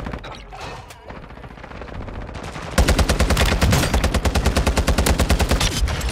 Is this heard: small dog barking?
no